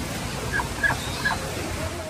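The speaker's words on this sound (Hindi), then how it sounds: "बहुत दो प्यारी बतख हैं।" Ducks calling beside a fountain in Taif, a few short quacking calls over the steady rush of splashing water, with faint voices in the background.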